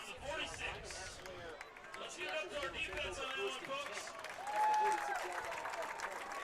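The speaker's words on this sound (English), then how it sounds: "the defense gets a round of applause from the Rebels faithful" Rebels fans in a high school football stadium applaud the defense, a faint, distant wash of clapping and crowd noise under a commentator's voice.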